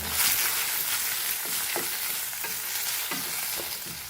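Onion and tomato fry in a tablespoon of oil, giving a constant loud sizzle, with periodic stirring scrapes about every half second to second and no voices.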